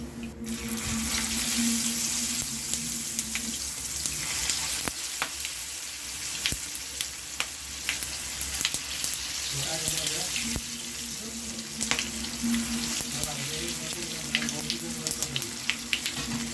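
Kothimbir vadi, coriander fritters, fry in oil with a continuous, close crackling sizzle and occasional clinks of a slotted spoon. The hiss stays fairly even across the whole stretch, with no voices over it.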